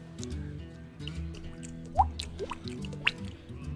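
A voice imitates a water drop, making a few wet mouth pops and squishy clicks that stand alone without talk, fairly faint, with two sharper plinks.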